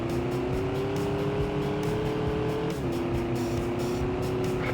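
A car engine drones loudly at high revs in the Stuntman driving game during a chase, a sustained steady tone that dips briefly mid-way as if shifting gear, then holds on, with no talk.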